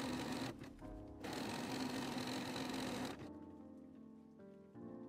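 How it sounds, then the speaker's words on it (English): A sewing machine running a zigzag stitch to attach elastic to a skirt waist, a steady close mechanical whir that stops briefly, restarts, then drops to a quieter hum near the end. "sew the elastic onto the waist with the casting foot with a zigzag stitch"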